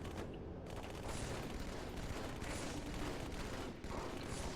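Sustained gunfire in Halo 2 on Legendary at High Charity, a dense, loud stream of rapid shots with a few brief pauses, filling the whole stretch without voices.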